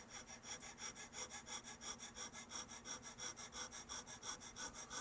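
Carbide checkering tool cutting a master line into a Colt 1911 grip, a faint, close, rhythmic rasping of quick even strokes repeated steadily throughout.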